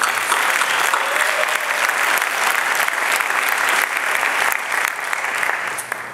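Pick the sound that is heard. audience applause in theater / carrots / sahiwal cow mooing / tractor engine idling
audience applause in theater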